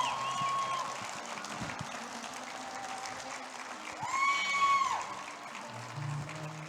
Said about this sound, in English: Ladies and gentlemen, give a round of applause for Mr. Ken Ma.